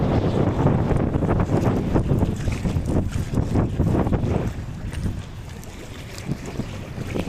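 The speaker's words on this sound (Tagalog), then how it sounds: "Malakas po yung hangin." Strong, gusty wind roaring and buffeting the microphone, with a rushing, watery rumble beneath, loud throughout and easing slightly near the end.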